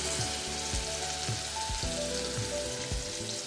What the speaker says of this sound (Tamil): இப்போ நான் வந்து மீன் பொரிச்சிக்கலாம்